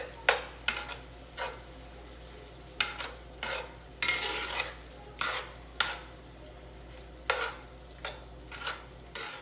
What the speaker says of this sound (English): I'm going to mix all this together.